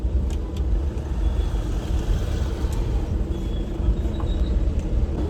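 Continuous rumbling road traffic on a single-lane road shared by big vehicles, with a congested flow of engines passing close by, heavy low-end noise and no talking.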